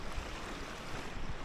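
A small stream of water along the Appalachian Trail, heard as a steady, close rush of flowing water with continuous broadband splashing and no pauses, with no voices over it.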